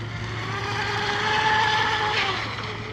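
A steady motor whine from a water-cooled J&R Marine H15 electric hydroplane boat running continuously at about three-quarter throttle, with a rising and falling high-pitched tone over a constant low hum, fairly loud and close.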